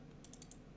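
Four quick, light key presses in a row as numbers are typed into a calculator, faint and crisp against a quiet background.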